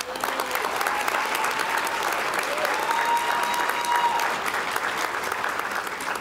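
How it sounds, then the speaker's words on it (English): An audience applauds nominated local businesses at a city State of the City address in San Marcos, a steady, dense clapping that holds strong and even throughout. "Let's give a warm round of applause to 1850 Realty"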